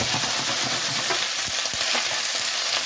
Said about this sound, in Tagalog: we'll saute this cabbage till it gets really soft.